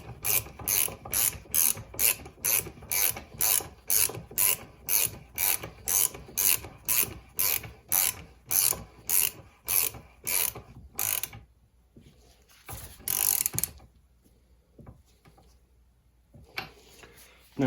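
A threading tool turns a Showa fork cap onto a 2004 Honda CRF250 fork, giving a steady run of sharp ratcheting clicks that stops, followed by a few scattered metallic taps and rubs, close and alone.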